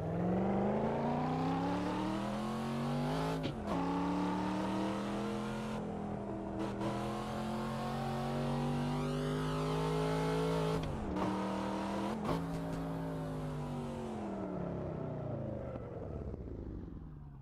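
A car engine in Assetto Corsa traffic mode, drones steadily with rising and falling revs as gears change, loud and continuous with brief dips at each shift and no one talking.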